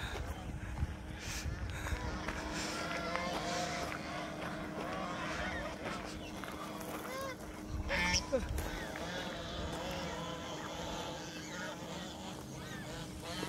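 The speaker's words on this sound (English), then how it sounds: "Look at that, so many goose." A flock of geese honks continuously across a wide field in Kampong Thom province, Cambodia, a dense chorus of overlapping calls with a steady low hum beneath and someone talking over it.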